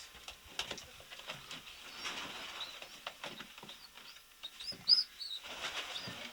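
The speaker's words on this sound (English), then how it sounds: "You can hear them squeaking. That's why they call them squeakers." Young pigeon chicks, called squeakers, give faint high squeaks in a loft, with a brief cluster standing out among soft rustling and flutter.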